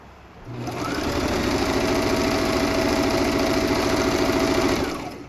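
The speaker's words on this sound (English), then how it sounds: "occasionally stopping to make sure that I am not going past this presser foot and my stitch is nice and even and straight." A sewing machine runs in one steady continuous stretch, stitching a fabric face mask under the presser foot, its fast even whirring mechanical rattle starting up, holding level and winding down close by with no talk.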